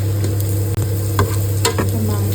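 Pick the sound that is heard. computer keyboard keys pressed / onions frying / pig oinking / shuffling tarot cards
onions frying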